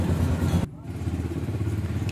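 A 2022 Yamaha YB125Z DX 125cc motorcycle runs with a low, steady engine rumble, under a voice at first, then on its own after a brief cut.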